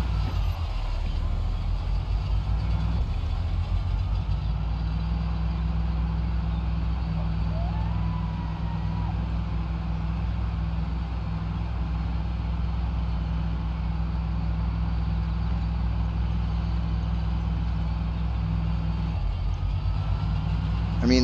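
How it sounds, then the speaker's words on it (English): A failing car engine with a punctured fuel tank in the video game Project Zomboid drones steadily with a rough, sputtering low rumble that holds for a long stretch, then briefly shifts near the end. "the car sounds like it's about to give out."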